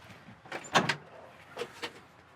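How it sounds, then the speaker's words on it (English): The door of a 1969 Chevy El Camino opens with a few short mechanical clicks and latch clunks, faint and close by, in a quiet setting. "I'll open the door, Brad."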